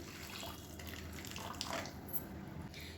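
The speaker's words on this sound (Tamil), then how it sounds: "இப்போ வந்து சுடு தண்ணி சேர்த்துக்கலாம்." Hot water pours steadily into a pan of fried masala for cooking rice, a continuous soft splashing stream, near and moderately quiet.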